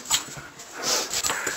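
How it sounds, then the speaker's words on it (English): Dog whimpering briefly indoors, a couple of soft, high whines over faint background noise. "The dogs are getting on the carpet."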